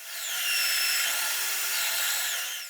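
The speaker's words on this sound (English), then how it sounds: "I sand the wood carefully." Wood being sanded on a homemade disc sander, a steady high-pitched whirring hiss with a faint rubbing tone, continuous and fairly close throughout.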